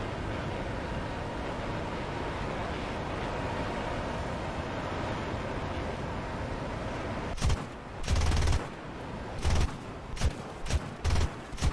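Six .50 caliber machine guns on an American plane in War Thunder fire in several loud, short bursts of rapid gunfire, cutting in over a steady engine and wind drone that runs alone through the first half.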